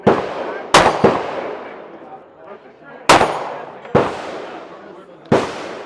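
Loud, close pistol shots from a Glock at an outdoor range ring out, six sharp reports spaced irregularly, each with a long echoing tail.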